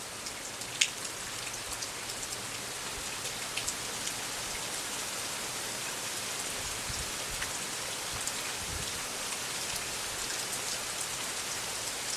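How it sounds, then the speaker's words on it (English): Rain falls steadily outdoors on a windy South Carolina morning, an even, continuous hiss with occasional sharper drops and no voices. "Starting to rain."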